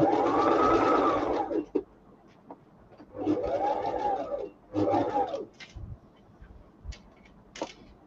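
A sewing machine stitches a fabric chin piece in three separate bursts: a long run, then two shorter ones, each winding up and slowing down, with quiet pauses and small clicks between them.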